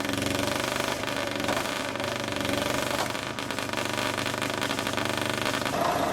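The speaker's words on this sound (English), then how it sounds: "Watch the legendary Caterpillar D9G come to life with a rare donkey start, a small engine igniting the beast within." A Caterpillar D9G bulldozer's small donkey starter engine runs in a steady, loud, close rattling clatter, a dense mechanical drone with no voices.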